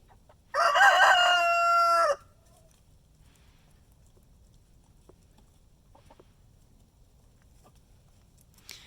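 A rooster crows once, loud and close, on a cold day at a backyard flock. After the crow the yard falls almost silent, with only faint background noise.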